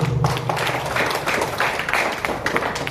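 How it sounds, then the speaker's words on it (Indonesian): An audience at a seminar bursts into sustained applause, many hands clapping densely and loudly without pause, with faint voices underneath. "Oke, tepuk tangan Bapak Ibu."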